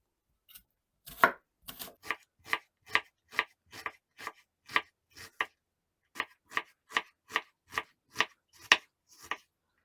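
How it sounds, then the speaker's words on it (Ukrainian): A knife chops onion into cubes on a cutting board, about twenty crisp, evenly spaced strikes close by with a brief pause midway. "наріжу цибулю кубиками"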